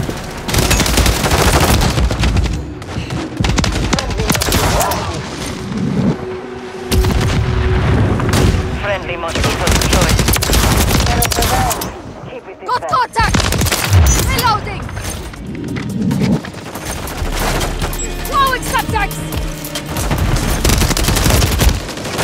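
Dense, loud gunfire from a Call of Duty Modern Warfare 3 multiplayer match on the Rust map: continuous bursts of automatic fire and booming blasts, with game voice callouts mixed in throughout.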